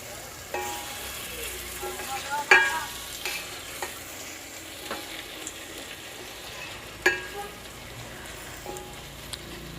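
Chicken sautéing with ginger garlic paste in a pan for a Tamil-style chicken curry, a soft steady sizzle broken by occasional sharp clinks of a spoon stirring against the pan.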